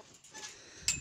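A brief, quiet goat bleat heard at a distance, a single short call in a fraction of a second with soft outdoor background.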